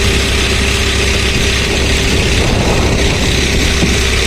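The newly installed engine of the fishing boat F/bca Myka runs at a steady idle, a loud, continuous low mechanical drone with no change in pace throughout.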